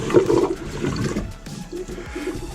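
An RV toilet pumps water into its bowl with a short gurgling, rushing surge, loud at first and then settling into a softer slosh.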